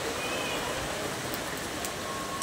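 Steady rain hisses during a typhoon, a dense, even wash of water noise with wind mixed in, close and moderately loud throughout, with no voices.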